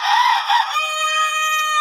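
Farm chickens in Rangpur fed papaya leaves, heard as a loud, close rooster-like crow sliding into a sustained, tonal call lasting a couple of seconds, with no other sounds around it.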